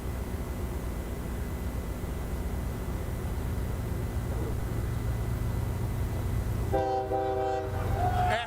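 A train rolls past with a steady broad rumble during a rugby match, then its horn blares loudly near the end. Crowd and field noise sit faintly underneath.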